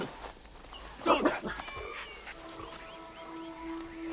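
A dog in Assassin's Creed Shadows gives a short bark and whimpering sounds amid game ambience, with someone talking over it at moderate level.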